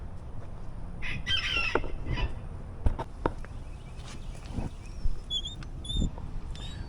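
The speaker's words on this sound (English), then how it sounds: "This chicken just assaulted me again." Chicken clucking in short, irregular calls with a few higher squawks, close by among light rustling and knocks.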